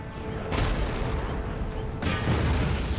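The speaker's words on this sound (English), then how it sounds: "We've got our cannon lined up, and we're going to start punching some holes in this wall" Cannon fire against a fortress wall in the strategy game Empire Total War: two heavy booms roughly one and a half seconds apart, each rolling out over a dense, rumbling battlefield din.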